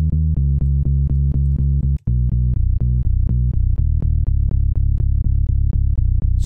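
Deep synthesizer sub bass from a pop song demo plays a steady, punchy pattern of repeated low notes with a brief gap, loud and alone without talk.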